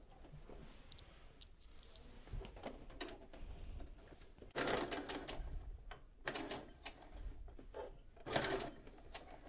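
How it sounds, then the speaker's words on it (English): Sewing machine stitching an invisible zipper close to the zipper teeth, fitted with a regular sewing foot; quiet bursts of rapid mechanical stitching run on and off in short runs, with louder spurts near the end. "you want to be careful and sew gently at the tip, like very close to the teeth of the zipper"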